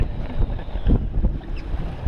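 Steady wind gusts buffeting the microphone outdoors on a striped bass fishing boat, a low rumbling roar with brief louder surges, no voices.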